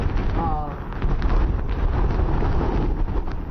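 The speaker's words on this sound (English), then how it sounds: "just when you think things are lightening up, you get another gust like that. Very powerful gust" A strong wind gust from Hurricane Irma in South Florida buffets the microphone, a loud continuous roar with rumbling low-end thumps, rising in force partway through.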